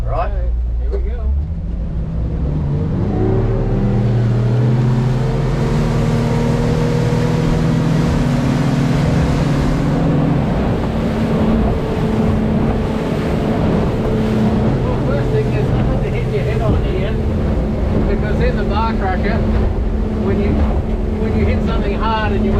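Yellowfin YF70 extended cabin boat running on open water, its outboard motor droning loud and steady throughout with shifting engine tones, heavy wind buffeting and water noise, while people talk over it.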